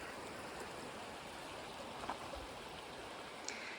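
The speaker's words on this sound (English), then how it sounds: "So this is the Hatea River, just a wee baby." Small shallow stream of the Hatea River in the Parihaka Reserve flowing steadily, a soft continuous burble and trickle heard faintly from close by, with no voices.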